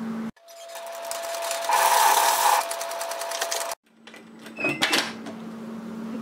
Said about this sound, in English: we're going to sew a seam at 1 centimetre